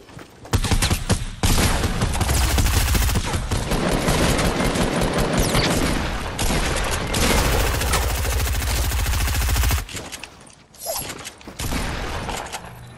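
Gunfire in a shooter video game, loud sustained automatic bursts with mechanical clatter filling most of the stretch, breaking off near the end before a few more shots.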